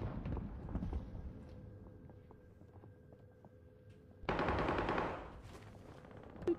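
Gunfire from an online multiplayer video game: a short sharp burst of automatic fire after a quieter stretch, with faint tones and scattered shots at a distance.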